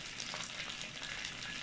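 Steady, close sizzling of fried rice frying in a hot wok, a continuous crackling hiss with faint stirring, no talk.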